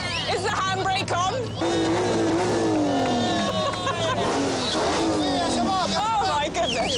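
A car driven hard on a Saudi trip, its engine revving and tires squealing in long sliding whines beneath excited chatter and shouts from people in the car.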